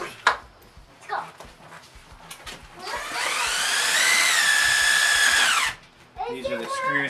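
A power drill drives screws into a double-hung window frame: one sustained, loud whirring run of about three seconds that rises in pitch and then stops abruptly, with someone speaking before and after.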